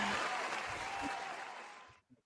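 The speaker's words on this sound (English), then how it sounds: "Let me give Riley the proper applause." A crowd's applause rings out for Riley Davis, loud and continuous at first, then gradually thinning and fading before stopping abruptly, followed by a brief faint sound.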